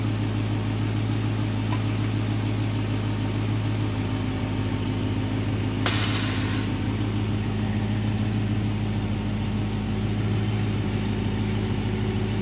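A 2021 Dodge Charger Hellcat fitted with Air Lift Performance 3P air suspension idles with a steady low rumble while a short, sharp burst of air hisses once midway as the suspension lifts back to ride height.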